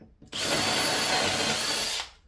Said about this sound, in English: The drill a hole at each end of the panel